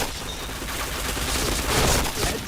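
Gunfire in a shooting video game, a dense continuous burst of rapid shots that swells louder toward the end, loud and close with no talk over it.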